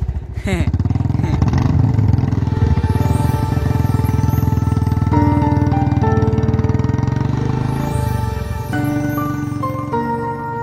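Steady loud engine drone runs throughout, like a motorcycle cruising close by, with a slight pitch change partway through.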